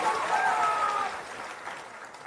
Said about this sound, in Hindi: आप देखिए लोग कितना जोर से ताली बजा रहा है